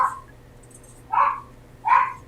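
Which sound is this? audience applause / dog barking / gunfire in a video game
dog barking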